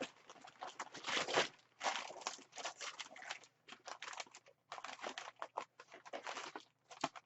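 Brown packing paper is crumpled and rustled by hand during an unboxing, in close, irregular crinkling bursts separated by short pauses, with no talking.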